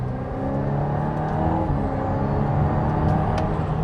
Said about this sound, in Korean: 자, 여러분, 그리고 엔진 소리 지금 들으셨습니까? 저희 지난번 에스턴 마틴 벤티지에 들어갔던 V8 4리터 그리고 이 차에도 V8 4리터 엔진이 들어갑니다.